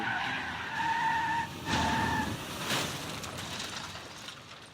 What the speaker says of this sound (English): As the suspect's vehicle whips onto 126th Street, its driver loses control.